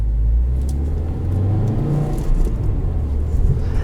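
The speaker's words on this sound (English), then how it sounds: "Really kind of a cool distinct sound from this flat 4." A 2020 Subaru WRX flat-four engine idles with a deep, burbling exhaust rumble, steady and close, with slight uneven pulsing throughout.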